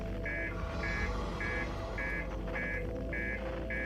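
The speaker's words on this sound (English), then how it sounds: "How does he not hear the alarm?" A spaceship alarm in the video game Outer Wilds beeps in a steady pulsing pattern, about seven evenly spaced tones over a low rumbling background, with no talking.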